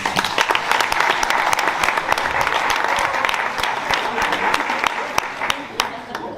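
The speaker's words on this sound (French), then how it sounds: "On peut l'applaudir." An audience at a rugby club's season launch gives a warm round of applause for a Gazelles club member, dense clapping going on for several seconds with a few voices mixed in.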